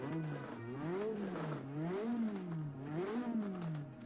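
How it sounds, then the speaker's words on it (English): A tiny 4-cylinder GT40-inspired racing car in Assetto Corsa revs up and down in repeated smooth cycles, its buzzy, motorbike-like engine note rising and falling about four times. "sounds like a little bit like a motorbike, but what can you expect from this tiny little 4-cylinder?"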